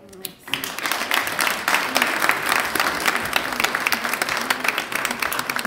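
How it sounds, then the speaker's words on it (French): An audience at an award ceremony in Brussels breaks into applause, a sudden burst of clapping that stays full and steady with crowd murmur throughout. "Sous vos applaudissements, encore une fois, s'il vous plaît"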